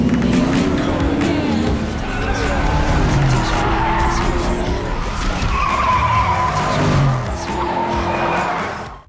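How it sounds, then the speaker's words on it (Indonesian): A Ford GT driven hard around a NASCAR oval, tires skidding and squealing as the engine roars loudly and continuously, with a voice talking over it. "Infamous meminta Natasha mengetes mobil itu di lintasan NASCAR yang ada di sana"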